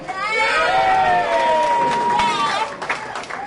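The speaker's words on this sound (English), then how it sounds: "Let's have one big last cheer for Laurel Run." A crowd of adults and children cheers and shouts together at the Laurel Run kickoff event, loud and sustained before tapering off at the end.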